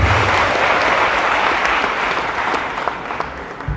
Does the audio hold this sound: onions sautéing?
no